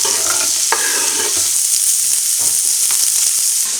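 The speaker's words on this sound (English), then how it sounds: "then we'll cut up our onions and garlics and get them frying" Onions and garlic fry in a pan for soup, a steady bright sizzle running throughout with occasional stirring scrapes and clinks.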